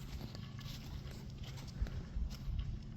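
Wild horses walking on sand, a steady soft shuffle of hooves and footfalls close by over constant outdoor background noise.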